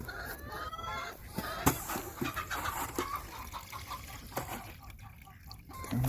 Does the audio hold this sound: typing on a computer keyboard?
no